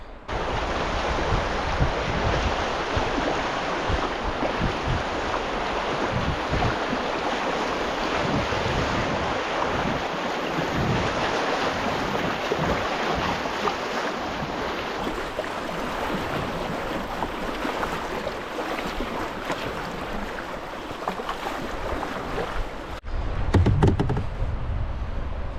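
Canoe paddling through a river rapid on the Buffalo National River in fall, a steady loud rush of churning water with wind noise buffeting the microphone throughout, a brief closer splashing knock near the end.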